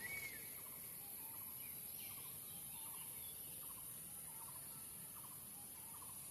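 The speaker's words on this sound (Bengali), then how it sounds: "পাখি ডাকে," Birds call in a quiet forest. Short, repeated chirping calls come at a regular pace, faint and fairly distant, over a steady high-pitched hiss with no human voices.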